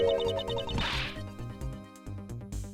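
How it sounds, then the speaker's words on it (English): A mirror shatters in the Ace Attorney Investigations: Miles Edgeworth video game, a short crashing burst near the start set against steady in-game music. "It was around then I heard the sound of a mirror shattering."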